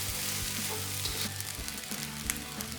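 Rice for egg fried rice with chicken cubes is tossed and mixed over high heat, a steady sizzle broken by repeated spatula scrapes and knocks against the pan.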